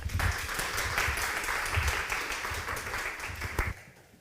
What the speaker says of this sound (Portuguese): Aplausos para